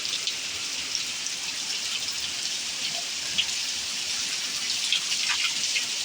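Downpour in Gujarat, a constant broad roar of rain with scattered nearby drips and splashes standing out, steady throughout and free of talk.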